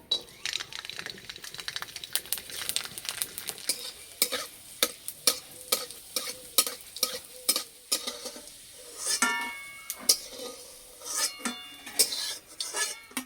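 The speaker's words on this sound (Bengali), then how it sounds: "কড়াইয়ে দেবো সর্ষের তেল। টমেটো আলু মাখার জন্য এখানে নিয়েছি রসুন, শুকনো লঙ্কা, গোটা জিরে, ভেজে নেব।" Garlic, dried red chilies and whole cumin frying in mustard oil in a kadai, with a steady sizzle under repeated sharp clicks and scrapes of a spatula stirring against the pan.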